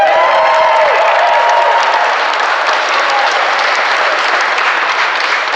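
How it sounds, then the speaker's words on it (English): Loud, sustained round of applause from an election-night crowd honoring the candidate's sister, with dense clapping and faint cheering blended in, steady throughout. "Let's give her a round of applause"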